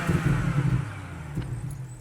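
A car engine is given a few quick throttle blips, short rising revs over a low rumble, moderately close and fairly quiet.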